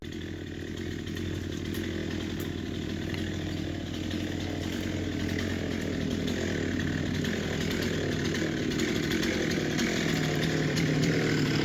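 A chainsaw runs steadily while cutting down a tree beside an old house, a loud, continuous buzzing drone that holds for the full stretch with no pauses or talk.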